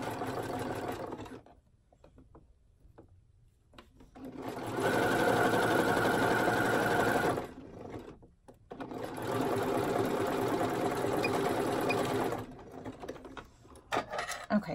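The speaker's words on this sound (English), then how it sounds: "now I will be sewing with actual thread" Sewing machine topstitching the front of bra cups, running in two long steady bursts separated by pauses, with a brief start before them; loud and close, with no talk.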